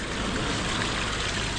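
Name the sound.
water dripping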